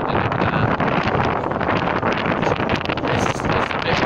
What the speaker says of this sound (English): This is a bit windy.